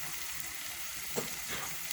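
Warm stock water poured into a pot of frying ogbono soup, a soft hiss and sizzle with a brief splash of liquid hitting the hot oil, close and steady with no voices.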